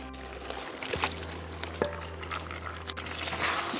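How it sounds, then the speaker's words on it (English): Beef dropped into a pot of cooked masalas and spices for a yuca and beef dish, making soft wet splashes and sizzling thumps over a low steady simmer, with a few distinct impacts. "So now we are gonna add our beef"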